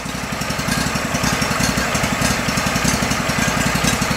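An old Go-For digger's engine idles roughly, with a loud, close, steady chugging pulse that runs unevenly throughout.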